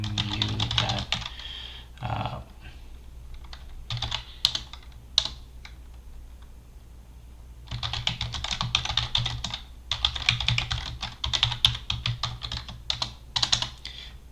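Fingers type an email on a computer keyboard, with close bursts of quick key clicks broken by short pauses, then a longer, denser run of typing near the end.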